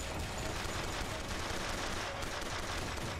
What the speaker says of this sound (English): They're all shooting me, but I don't know where they are.